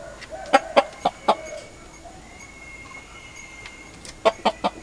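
Chickens clucking close by in short, sharp bursts, a group of clucks at the start and another quick run at the end, with a quieter stretch in between over faint background noise.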